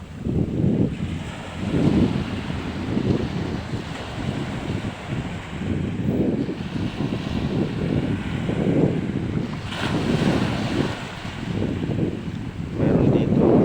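Rough sea waves churn and roll beside a fishing boat while strong wind buffets the microphone, a loud continuous roar with recurring surges and no clear speech.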